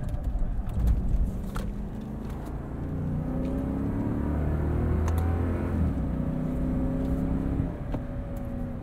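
A 2021 Lexus LX570 drives in Sport Plus mode, its engine a steady low rumble that swells gradually as it accelerates. Road noise comes from inside the cabin and no one speaks.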